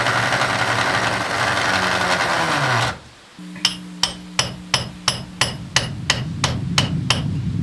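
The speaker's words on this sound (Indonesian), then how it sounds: "this drill is really nice" A power drill bores into cave rock with a loud grinding whine, then stops and restarts as a rapid series of about a dozen sharp hammering impacts over a low motor hum.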